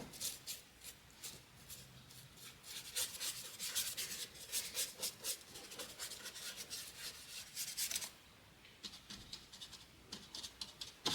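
Paint being scraped off a small haunted house model: a steady, soft rasping and scratching of short repeated strokes, close and quiet, with a brief pause near the end before the scraping resumes.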